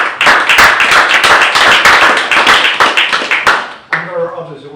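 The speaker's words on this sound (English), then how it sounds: "I think they should be applauded for it." An audience at a city council meeting applauds with loud, close clapping for about four seconds, then it breaks off as a voice begins speaking.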